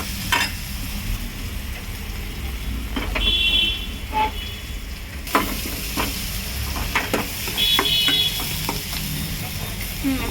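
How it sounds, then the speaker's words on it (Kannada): Sprouted legume curry (kalu palya) fries in a pan, a steady sizzle with the scrape and clatter of stirring utensils and a few brief beeps, no talking. "ಫ್ರೈ ಆಗ್ತಾ ರೀ ಪಲ್ಯ ನೋಡಿ"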